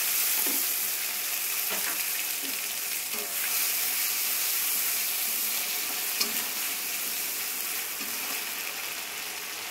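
Ginger-cumin paste sizzling in hot oil with already-fried pabda fish, a steady broadband hiss with occasional stirring clicks, close and continuous with no talking.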